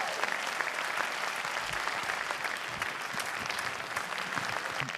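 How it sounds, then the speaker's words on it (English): An audience claps loudly and steadily after a drum solo. The dense applause holds for the whole stretch and fills the room. "give them a round of applause"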